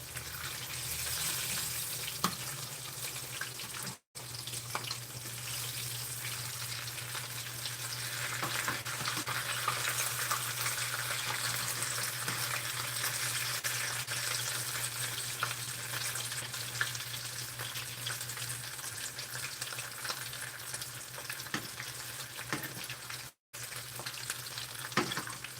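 Peach-glazed yellowtail fries in a pan with a continuous close sizzle and crackle, a steady low hum beneath it and a couple of brief dropouts, and no one speaking.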